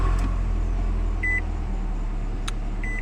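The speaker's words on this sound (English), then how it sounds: "you can start the car by having the key fob inside of the car, putting your foot on the brake and pressing the engine start button" A 2014 Nissan Altima SV starts with its push-button ignition: a low engine rumble settles into a steady idle while two short electronic chimes sound from the cabin.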